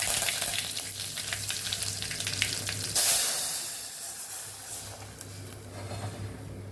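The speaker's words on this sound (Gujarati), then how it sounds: "હવે આપણે કઢીનો વઘાર કરવાનો છે એટલે મીઠા લીમડાના પાન ઉમેરી દઈશું" Loud, steady sizzling of curry leaves dropped into hot oil for a kadhi tempering, with a sharp crackling burst partway through, close by and without talk.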